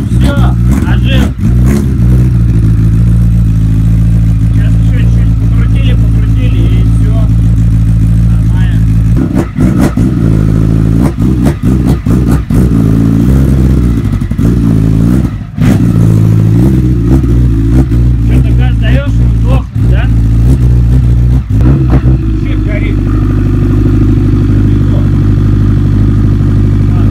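A Honda CBR1000RR sport bike runs for the first time after an engine swap, idling loudly close by with repeated sharp throttle blips and revs; people talk over it at times.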